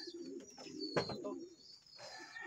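Pigeons coo softly and nearby in a pigeon loft, with low throaty calls rising and falling. There are brief rustles and faint higher chirps in the background.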